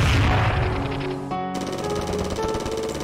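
A gunfire and explosions sound effect plays as a rapid, rattling burst of automatic shots, loud and dense, briefly broken then resuming in a fast repeating clatter.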